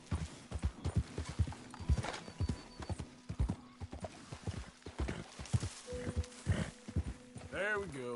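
Horse hooves clip-clop steadily on terrain while riding downhill toward Emerald Station in the video game Red Dead Redemption 2, with a brief whinny near the end and someone talking over the rhythmic steps.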